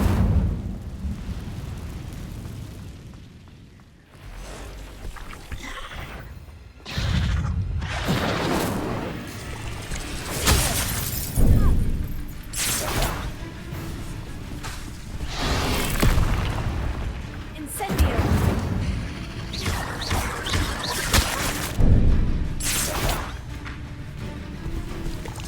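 Incendio fire spell in the Hogwarts Legacy video game blasting rocks, a series of loud booming bursts and whooshes rising and falling over about 25 seconds, with game sound underneath.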